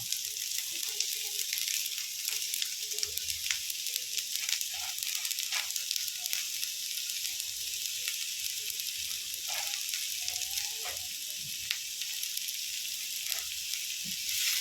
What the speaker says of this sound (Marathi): तर नॉर्मल ब्राऊन करायचे कांदे